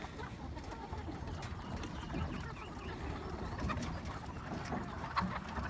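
Newly arrived laying hens on a farm being let out of their house, giving soft, continuous cooing and clucking calls from a flock close by.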